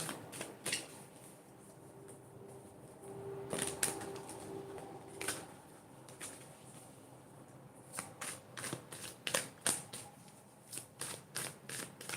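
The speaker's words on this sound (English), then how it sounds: "All right, so let me shuffle." Tarot cards being shuffled up close: brisk riffling bursts and soft snaps in irregular clusters, with quiet pauses between, no voices.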